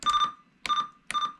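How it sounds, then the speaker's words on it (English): Three short electronic roger beeps from a President McKinley II CB radio, each a bright tonal chirp with a brief decaying tail, evenly spaced and close, with no voices. "You can actually hear that in the beep."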